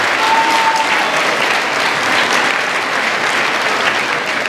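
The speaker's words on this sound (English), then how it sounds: "let's give them a round of applause for putting all this together" An audience claps steadily at a school Veterans Day assembly, a dense, even wash of applause filling a large room with no voices over it.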